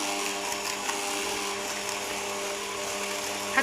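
A steady electric mixer or blender whirs while blending cream dessert ingredients, including caramel Nestlé cream, into a smooth cream, a constant mid-loud motor drone with no talk.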